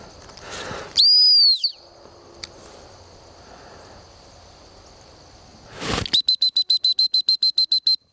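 A sharp dog training whistle used in retriever recall work: one long steady blast near the start, then a quick run of about a dozen short, evenly spaced pips toward the end, with quiet outdoor background between.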